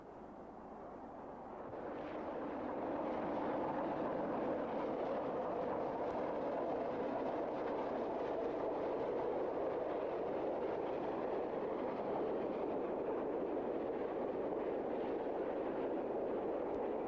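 Norfolk and Western class A 1218 steam locomotive running past with its train, a steady loud broadband rumble that swells in over the first few seconds and holds, with faint rhythmic wheel clatter.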